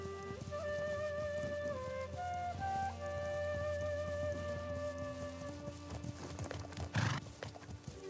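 A horse in the game Legend of Khiimori clip-clops at a steady pace over rain and background music, and one loud, close whinny rings out near the end.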